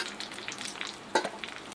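A hot tempering tipped into Telangana-style tomato dal bursts into a brief, close sizzle and hiss, with a sharper splash-crackle in the middle and a quick stop at the end, no voices.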